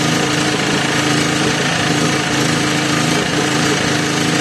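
A gas-powered generator under repair, which had been smoking black, runs on petrol with a loud, steady, unbroken engine drone and buzz close by, and no talking.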